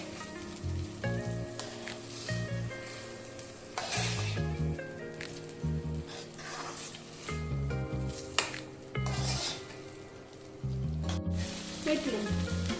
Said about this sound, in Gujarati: ટામેટાં એડ કરવાના. બધું મિક્સ કરી દેવાનું